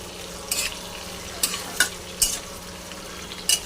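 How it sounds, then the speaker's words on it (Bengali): Sliced onion and cumin seeds fry in a pan over a low, steady sizzle, with several short stirring scrapes landing at uneven intervals close by. "পেঁয়াজটা হালকা করে ভেজে নেব।"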